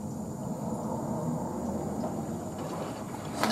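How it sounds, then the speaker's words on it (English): A washer dryer runs steadily through a long wash cycle, a constant broadband whoosh of sloshing water and motor hum with a brief louder swish near the end. "It sounds like water."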